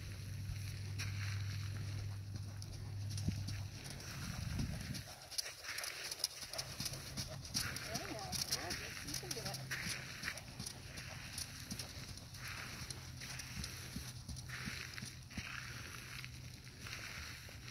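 A horse walks over tough footing, hooves clip-clopping in an irregular rhythm close by, with light creaks and rustles from tack and a low hum underneath.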